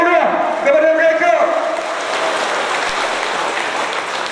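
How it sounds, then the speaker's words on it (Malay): A crowd at a Johor aid-distribution event in Simpang Renggam breaks into sustained applause, a dense, loud wash of clapping that carries on steadily after a voice over a sound system fades out. "Kita bagi tepukan yang gemuruh kepada mereka."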